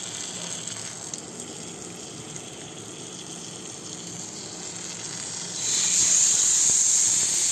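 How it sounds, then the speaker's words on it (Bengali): A pomfret fish frying in brushed oil in a frying pan gives a steady hiss that swells noticeably louder and brighter toward the end, with no talking. "অয়েলটা ব্রাশ করে এরপর পমফ্রেটটা ফ্রাই করতে"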